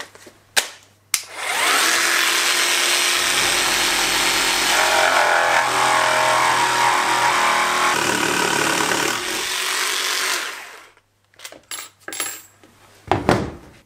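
A power jigsaw roars through a worktop for about eight seconds, steady and loud, framed by handling clunks and knocks before and after.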